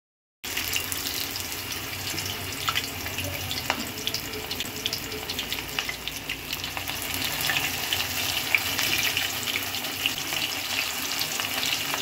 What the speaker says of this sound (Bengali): আর তেলটা গরম হলে এক এক করে স্যাটেগুলো ছেড়ে দিতে হবে